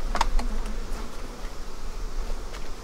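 Bees hum in a dense, continuous drone around an open beehive during a hive inspection. The buzzing is steady and close, with a few brief louder passes near the start.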